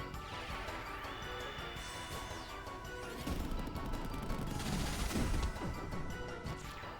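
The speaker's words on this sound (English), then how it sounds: "All enemies shoot forth a barrage of flower seeds." Flower seed barrage attack called Pop Pop Pop in Chrono Cross, a rising whistle-like tone followed by a loud burst of rapid crashing, popping impacts that swell then fade.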